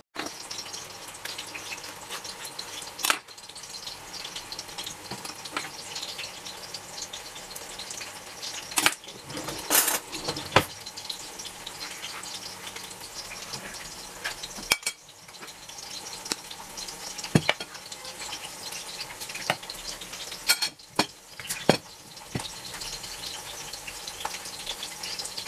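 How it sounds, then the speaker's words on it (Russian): Three cutlets fry in a pan, giving a continuous close sizzle broken by stirring clatters and scraping, with some water splashing in a sink now and then and no talking. "И вот такие котлетки пожарю."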